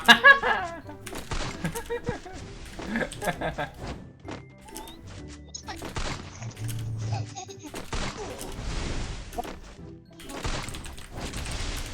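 Gunfire from the mobile shooter Garena Free Fire, played with only pistols: scattered bursts of shots and impacts throughout, mixed with game effects and some talking over the top.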